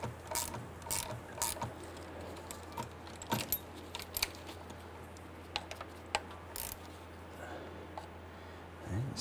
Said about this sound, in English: Very important that we hold that stationary as we tighten this nut.